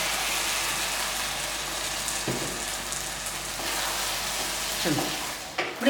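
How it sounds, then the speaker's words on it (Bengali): A cornflour slurry is stirred into a thickening baby corn sauce in a pan, with a steady bubbling sizzle throughout and a few soft stirring scrapes near the end. "এই গোলাটা এর মধ্যে দিয়ে কিছুক্ষণ নাড়াচাড়া করব"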